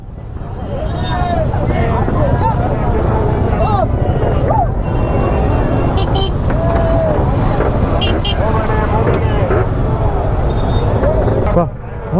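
Busy night road traffic near Mysuru palace during the Dasara festival, heard from a Pulsar motorcycle, with a loud steady roar of engines, scattered horn toots and crowd noise throughout.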